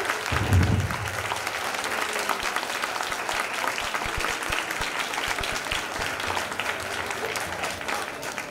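Parents and staff at a school board meeting applaud gifted and talented students: a roomful of steady clapping that swells briefly near the start, holds at a fairly even level, and thins slightly by the end.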